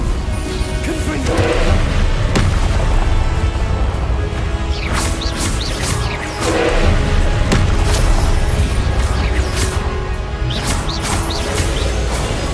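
Confringo blasting spells erupt in Hogwarts Legacy as a dense run of crashing booms and sharp impact bursts over a constant rumbling game soundscape, loud and close throughout.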